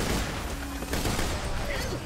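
Dense automatic gunfire rattles continuously in the co-op shooter Borderlands: The Pre-Sequel, a loud, unbroken fusillade layered with game effects, while a voice talks over it.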